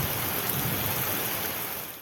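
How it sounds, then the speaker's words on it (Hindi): Heavy stormy rain pours in Islamabad, a dense, loud, unbroken wash of hiss that fades slightly at the end. "सुबह सवेरे इस्लामाबाद में काले गहरे बादल छाए और तूफानी बारिश का सिलसिला शुरू हुआ।"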